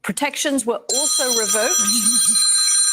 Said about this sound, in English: that is my phone going off